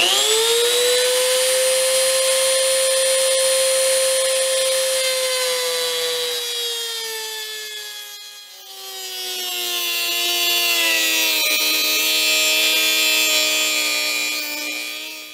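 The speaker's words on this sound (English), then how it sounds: "I'll use my Dremel tool to do that cut." A Dremel rotary tool cuts a slot into a metal barrel shaft with a loud, close, high whine that sags slightly under load around the middle, then recovers steadily with no talk.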